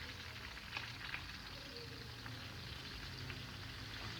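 Duck pieces sear in a hot pan until golden, giving a steady close crackling sizzle with small pops and spits scattered through, no talking.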